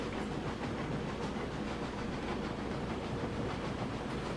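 A train in RailRoads Online labours up a grade, a dense continuous rumble and chuffing hiss at steady loudness with no pauses.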